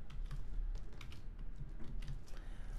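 Rapid typing on a computer keyboard, a steady run of close, light key clicks and taps with no talking.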